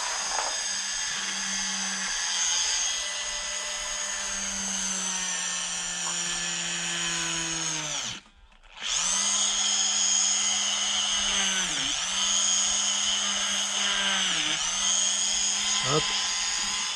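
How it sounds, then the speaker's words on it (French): A small power drill pierces the rubber of a 1/8-scale off-road RC car tire, whining steadily and loudly at high pitch, briefly stopping midway, then restarting with a few dips in speed as it bites into the rubber. "on va prendre la petite perceuse et on va percer la gomme"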